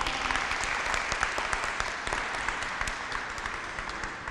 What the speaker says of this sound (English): Let's give Mr. Kennedy Jones another round of applause.